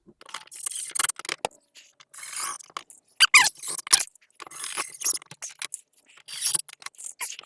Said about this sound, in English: So let's just get this screwed down the rest of the way.